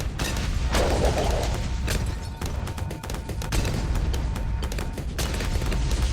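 Fire bomb explosions in the tower defense game Bloons TD 6, a dense, continuous barrage of booming blasts and crackling bursts layered over one another, loud and steady throughout.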